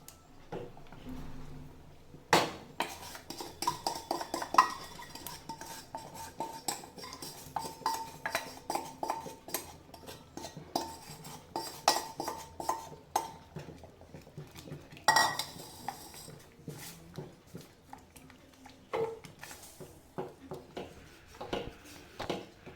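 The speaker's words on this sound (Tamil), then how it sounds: "இப்போ நான் ரவை போட்டு கலந்து போகிறேன்." A spoon scrapes and clinks steadily against a pan as semolina (rava) is stirred on low heat for kesari, a close, irregular rhythm of metallic taps and scrapes with no voices.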